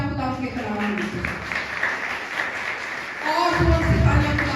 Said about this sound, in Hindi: आई जोरदार तालियां खुदा के कलाम के लिए